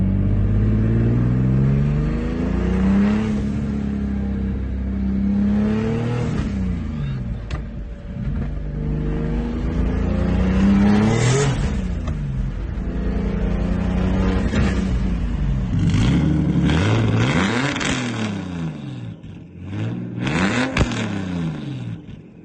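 A car engine with a new exhaust revs repeatedly, rising and falling through several loud, throaty pulls. Close and prominent throughout, with no talking.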